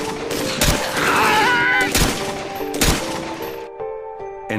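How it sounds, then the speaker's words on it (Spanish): Loud gunshots ring out at zombies in several sharp, separated blasts, with moaning, groaning infected wailing between them and a sustained tonal hum near the end. "entonces les disparamos."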